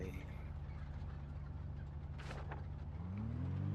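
Truck engine in the Project Zomboid survival game, a steady low idle that climbs into a rising rev near the end, with faint background noise over it.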